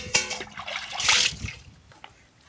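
Potatoes being swished and rinsed in water in a pot, with close splashes and sloshing that peak midway and then settle into light trickles and drips.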